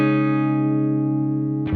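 A Peavey Classic 20 guitar amp with the treble knob turned fully up sustains a bright, steady chord that rings out and slowly fades before a new strum cuts in at the end.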